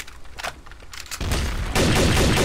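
Rapid gunfire in Garry's Mod Trouble in Terrorist Town starts with a few scattered shots, then swells into loud, continuous close-range volleys.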